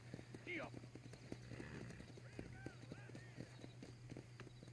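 Horse hooves clip-clop in Red Dead Redemption on Nintendo Switch, a steady rapid patter of hoofbeats under a low engine-like drone, with a brief whinny and someone speaking over it.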